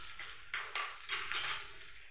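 Onion tipped into hot oil with cumin, giving a soft frying sizzle that rises in short bursts as it is stirred, close and fairly quiet.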